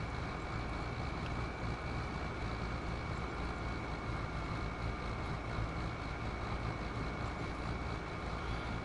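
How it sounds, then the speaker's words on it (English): A tractor engine in the farming video game Farming Simulator 25 drones steadily and loudly, a continuous low rumble with a persistent mid-range hum and no talk over it. "Sounds like my tractor wants to take off."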